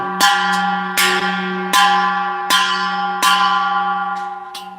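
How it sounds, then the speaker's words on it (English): A bell rings out five or six times at an even, unhurried pace, each clear metallic strike leaving a long sustained tone that overlaps the next, loud and close with no voices. "sweet sound of Super Chat bell"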